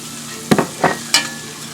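Sage leaves dropped into a hot frying pan while cooking butternut ravioli, three short loud bursts of sizzle and stirring close by, then a low steady fry.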